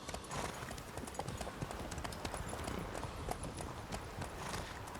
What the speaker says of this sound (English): Fancy horse.